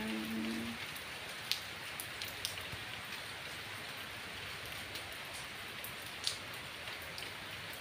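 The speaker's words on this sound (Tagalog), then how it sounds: "Umuulan dito sa Aberaeen." Steady rain hisses continuously, with a few louder drops tapping close by now and then.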